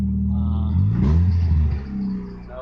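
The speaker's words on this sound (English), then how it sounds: "Hear me raving the RPM, putting some gas in it" A 1998 Mitsubishi Eclipse engine is revved once with the throttle, the low idle rumble swelling briefly and settling back down, heard close and alone.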